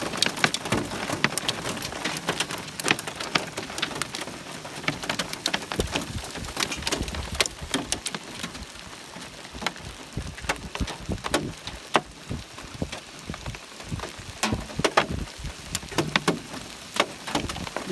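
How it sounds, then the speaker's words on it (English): Hailstorm pelting a van on a Colorado road trip, a dense continuous clatter of hard ice hitting metal and glass, loud and close throughout. "A little bit of a hailstorm."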